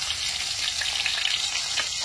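Potatoes and capsicum fry in a pan with a steady, even sizzle that holds close and constant throughout, with no voices over it.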